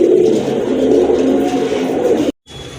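A pair of Chuina pigeons cooing up close, a low steady throaty call that runs for a couple of seconds and then cuts off abruptly.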